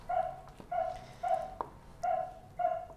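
A dog barks excitedly in a quick series of about five sharp, evenly spaced barks, moderately close, with a brief yip between them and no talk.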